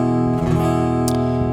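Acoustic guitar played through a Boss AD-10 acoustic preamp on a preset with no effects, a sustained strummed chord ringing steadily and close, with a faint brighter scrape partway through.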